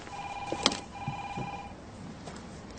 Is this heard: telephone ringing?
yes